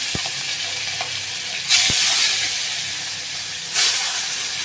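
Three fish pieces drop into hot oil, with a few sharp knocks of the pan followed by two loud bursts of sizzling hiss over a steady background frying.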